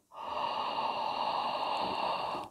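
A singer draws one long, deep, steady breath in as a breathing exercise, a close, loud airy inhalation that holds evenly for about two seconds before stopping abruptly.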